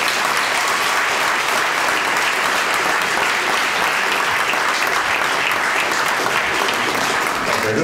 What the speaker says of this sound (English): Let's give a round of applause to our panel.